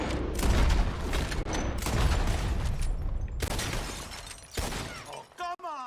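Rapid gunshots shattering bottles in a Red Dead Redemption 2 shooting contest, a dense loud barrage of cracks and breaking glass, ending in a few separate shots, with voices mixed in.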